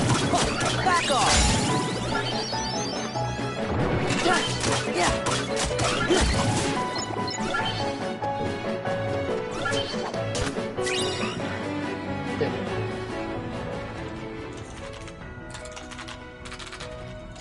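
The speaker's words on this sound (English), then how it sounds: "Yes, it smashed them keyboards." Keyboards are smashed in Kingdom Hearts 2, with loud clattering crashes and rapid key-like rattles in the first seconds, then lighter scattered clicks and game sound fading out.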